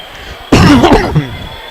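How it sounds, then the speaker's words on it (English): A single sharp cough bursts close to the microphone in a radio broadcast booth at a high school basketball game, Mt. Vernon Rams versus Jersey Panthers, followed by quiet background. "I had to get the cough."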